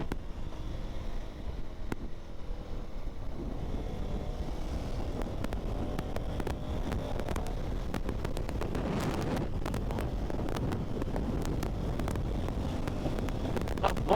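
Strong wind buffeting a rider on a Duke 390 motorcycle on the highway, a continuous loud roaring rush with low rumble and scattered sharp gusty crackles throughout.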